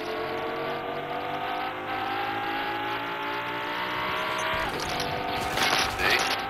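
A car driven in Fortnite, its engine holding a steady droning note with rising revs, then a louder rush and rattle toward the end as it speeds on.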